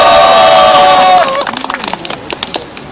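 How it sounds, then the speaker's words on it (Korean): Crowd cheering and clapping at the launch press conference of a Jecheon citizens' committee for stronger public pensions. A loud burst with tonal shouts comes first, then scattered claps taper off. "동지들의 박수와 함성으로 시작하겠습니다"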